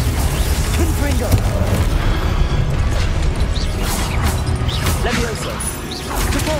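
Spell attacks explode in Hogwarts Legacy in a dense, continuous barrage of crashes, booms and whooshes, with a voice calling out over the blasts.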